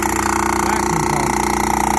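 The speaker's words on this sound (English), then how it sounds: "vacuum pump." A vacuum pump for irrigation equipment runs at a steady, loud mechanical drone with a constant tonal hum, heard up close and without pause.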